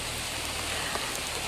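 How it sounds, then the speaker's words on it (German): Heavy rain falls steadily through an autumn forest, a dense, even hiss of drops on leaves and ground with no breaks and no voices. "Habe damit nicht gerechnet, dass es doch so stark regnet."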